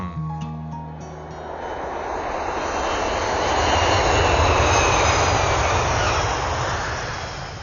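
An airplane engine roars in a film scene, swelling to a loud, close peak midway before easing off, a broad continuous rumble with no voices over it.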